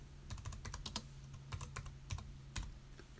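Typing on a computer keyboard: irregular bursts of clicking keystrokes, close and fairly quiet, over a steady low hum.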